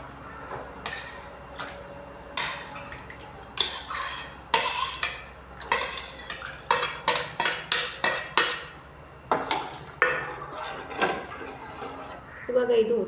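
Cut eggs going into a pan of egg masala curry, with a spoon or ladle stirring and scraping against the pan in a string of loud metallic clinks and scrapes while a voice talks.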